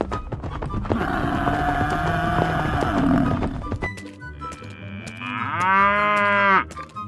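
A cow moos loudly and close, two long drawn-out bellows one after the other, the second rising and harmonic-rich before cutting off, with faint clicks and thumps around them.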